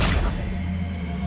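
A spell cast in Hogwarts Legacy: a sharp magical burst at the start that fades into a low, steady rumble, heard alone.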